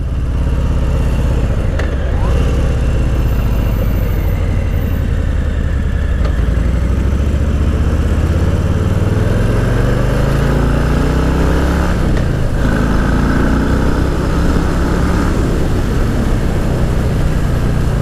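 Harley-Davidson Street Bob V-twin engine and exhaust heard while riding, loud and continuous with rising and falling revs as the bike accelerates, shifts and engine-brakes.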